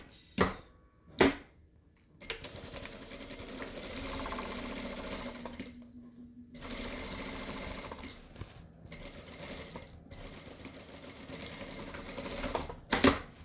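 A sewing machine runs in steady bursts while stitching the shoulder seam of a puff sleeve dress, its rapid mechanical whir starting and stopping close by, with brief clicks and handling sounds between runs.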